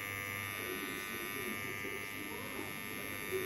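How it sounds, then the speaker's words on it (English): A cordless two-speed electric hair trimmer runs with a steady, close, high-pitched buzz, while a voice talks over the hum throughout. "So that's cool. It's a two-speed trimmer."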